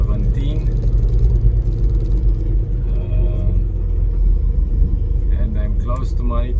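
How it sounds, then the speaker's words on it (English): A truck cruising on Ontario Highway 17 near Thunder Bay and Kenora gives a steady low engine and road rumble inside the cab, with someone talking over it throughout. "And now I'm driving on Ontario 17."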